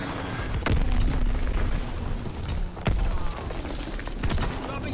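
Azon bomb explosions in a WW2 shooter video game: a rolling series of heavy booms and sharp blasts with gunfire cracks, loud and continuous across the stretch.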